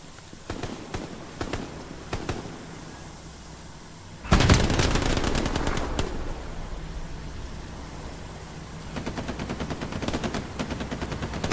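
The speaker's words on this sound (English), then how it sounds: "Listening to footsteps and gunshots." Gunfire in the video game Hell Let Loose: scattered shots, then a loud sudden burst of rapid machine-gun fire that trails into ongoing rattling volleys, dense and continuous.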